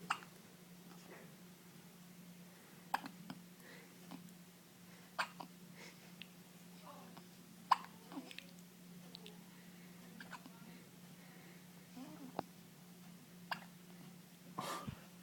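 A baby hiccups repeatedly, with short sharp bursts spread irregularly over a quiet room with a low steady hum. No one talks.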